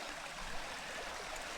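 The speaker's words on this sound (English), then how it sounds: "show you this little river." A small river flows steadily with a continuous broadband rush of water, close and even throughout, with no voices.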